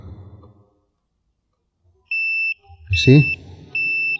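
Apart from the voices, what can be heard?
Spy 5000m motorcycle alarm arming on Yamaha Nmax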